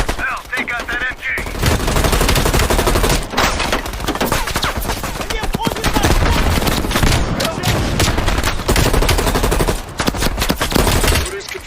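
Sustained automatic machine gun fire in the Call of Duty Black Ops Cold War campaign, loud dense bursts of rapid shots running almost continuously with brief gaps and heavy battle noise layered beneath.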